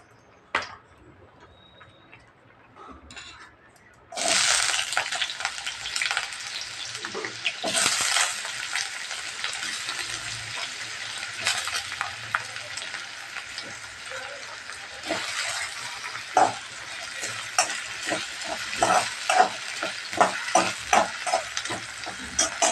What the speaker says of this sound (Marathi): 2 चमचे तूप घेतले। तर याच्यात आपण बटाटा परतवून घेणार आहे।